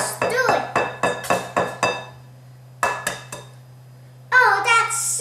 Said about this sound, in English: I'm gonna stir it.